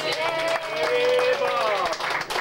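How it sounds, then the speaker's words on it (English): A tour group on a 1993 Walt Disney World behind-the-scenes tour claps for its transportation host, with loud whoops and tonal voices riding over the scattered, close applause. "let's all give our transportation host Robert a huge round of applause"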